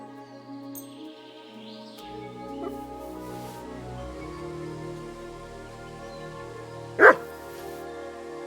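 Mutt the dog barks once in Kingdom Come: Deliverance II, a single sharp bark standing out over a low ambient game soundscape.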